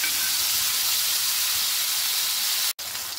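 Bombay duck fish frying in a pan of hot oil, a loud, close, continuous hissing sizzle that cuts out for an instant near the end before resuming.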